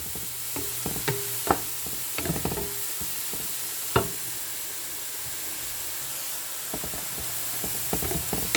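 Scallions sweat in a pan for vegetable soup, giving a soft, steady sizzle and hiss with a few sharp stirring knocks and scrapes scattered through it.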